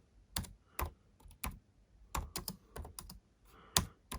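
Keys typed on a Futaba 16SZ radio control transmitter while a model name is entered, a quick irregular run of crisp close-up clicks in short bursts with brief pauses.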